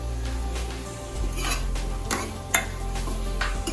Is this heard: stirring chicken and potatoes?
yes